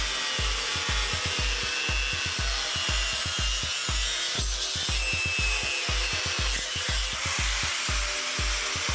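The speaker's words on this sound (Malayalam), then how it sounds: "ഈ കട്ടർ ഉപയോഗിച്ച് ഇതൊന്ന് കട്ട് ചെയ്തെടുക്കാം" A hand cutter saws through a thick coconut shell, cut into a piece for a ring, in a steady rhythmic back-and-forth of rasping strokes, close and loud and continuing throughout.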